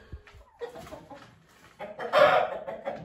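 Village chickens near their coop clucking in short, irregular bursts, fairly close, with a louder cackling flurry toward the end and no talk.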